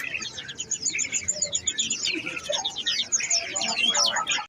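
Pleci (white-eye) songbirds at a busy Sunday bird market, a dense flurry of bright, rapid chirps and tweets from many small birds at close range, continuing throughout with faint crowd murmur underneath.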